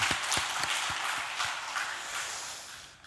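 Quiet congregation applause in a church in Jinju during a Sunday worship service: a soft wash of scattered hand clapping heard from a distance, tapering off over about three seconds.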